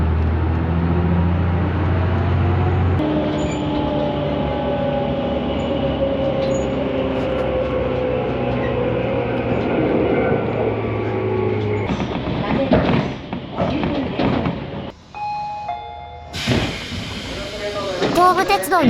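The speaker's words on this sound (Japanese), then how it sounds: "東武鉄道の電車に乗ってガタンゴトンと進んだ" A two-car Tobu Railway electric train rumbles along with a steady low drone and rolling noise, then clatters and rattles more sharply toward the end, with a few brief tonal squeals near the finish.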